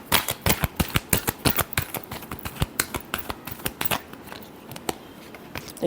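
Tarot cards being shuffled for a love reading, a rapid run of crisp riffling snaps and flutters, close and fairly loud, slowing and thinning slightly toward the end, with no voices.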